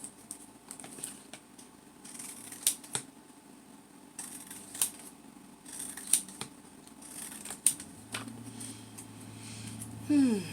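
Scissors snip diagonal lines into recycled paper for pop-art shapes, giving a series of crisp, separate cuts spaced a second or two apart over faint room noise.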